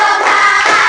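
Children clap their hands together in a classroom clapping game, a dense burst of many overlapping claps from a group, loud and close, with no talking.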